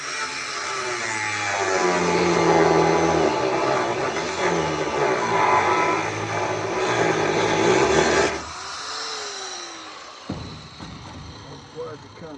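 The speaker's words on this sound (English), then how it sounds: "But I might just run a grinder on that." An angle grinder cuts through the plastic housing of a water fountain being scrapped, a loud sustained whine with rough grinding for about eight seconds before it stops abruptly, followed by quieter clanks and handling noise.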